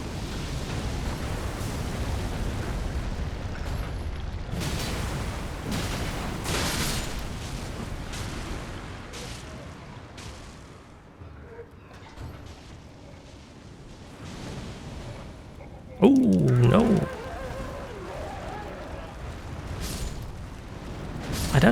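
Explosions in the video game Elden Ring: a series of heavy booming bursts and rumbling blasts, some overlapping, with a quieter stretch midway before a sharper burst and more blasts near the end.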